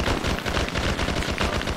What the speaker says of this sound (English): I hear an AK!